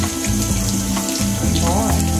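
Water runs steadily from a tap into a tub while a dog is bathed, a continuous loud splashing stream with no talking over it.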